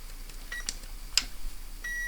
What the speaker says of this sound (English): A couple of beeps.